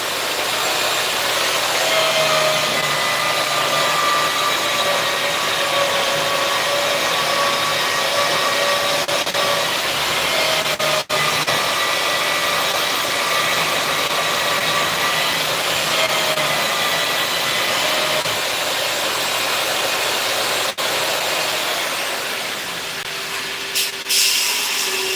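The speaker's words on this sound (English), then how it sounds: "This is not heat treated yet, so it grinds really nice and easy." A knife blade that has not yet been heat treated is ground on a machine, giving a continuous loud, steady whirring grind that runs unbroken for the whole stretch before easing near the end.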